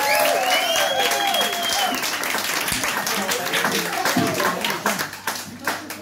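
A crowd applauding loudly and continuously, with cheers and whoops rising over the clapping before it thins out toward the end.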